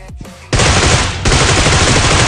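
Gunfire in a battle royale video game: a loud, continuous stream of rapid automatic shots that bursts in suddenly and carries on at a steady, dense rhythm, close and dominant.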